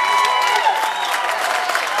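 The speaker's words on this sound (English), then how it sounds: "So give yourself a round of applause." A tea party audience in Arkansas applauds, a fairly loud, even patter of many hands, with some cheering mixed in through the brief stretch.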